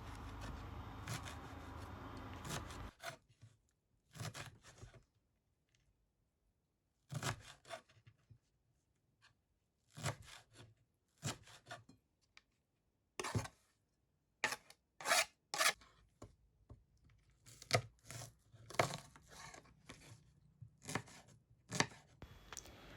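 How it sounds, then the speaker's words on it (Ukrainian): Fresh dill and green onions chopped with a knife on a cutting board, heard as bursts of quick, crisp, close rhythmic knife strikes separated by short pauses, with no talking. "Також нарізаємо зелень. У мене буде тут кріпець і зелена цибулька."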